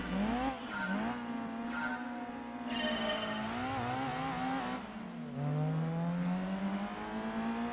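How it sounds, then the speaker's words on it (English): A Gran Turismo 2 race car engine revs high and drops through gear shifts, a continuous whining drone with rising and falling pitch. "Car certainly sounds different than compared to before."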